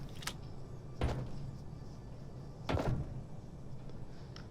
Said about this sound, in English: So I decide to open the door.